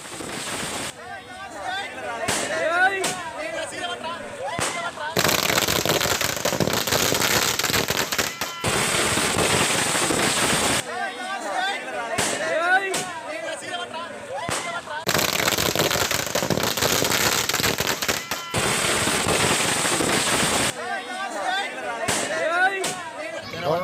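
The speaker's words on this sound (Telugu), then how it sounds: "స్థానికులు టపాసులు పేలుస్తూ పరస్పరం అభినందించుకున్నారు." Loud firecrackers burst at a local celebration in Telangana in long, dense volleys of sharp crackling pops, with short lulls between barrages and voices faintly underneath.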